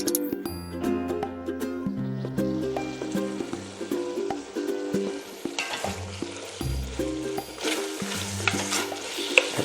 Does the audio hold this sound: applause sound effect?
no